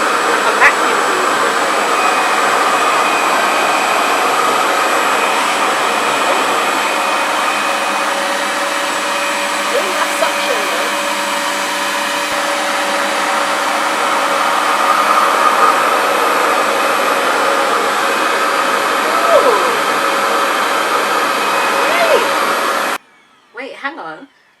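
A Revair reverse-air hair dryer blows continuously at close range with a steady high whirring roar, then cuts off abruptly near the end, followed by brief rustling.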